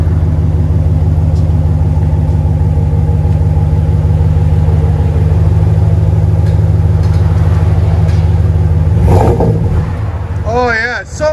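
A Dodge Ram with a 5.7L HEMI V8 and an aftermarket exhaust rumbles deep and loud close by, climbing steadily in pitch under a gentle rev, then settling back as people talk near the end.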